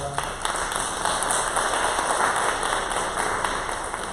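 A church congregation claps to welcome visiting guests, a sustained, fairly loud patter of many hands that continues evenly throughout, with a faint electronic tone lingering behind it.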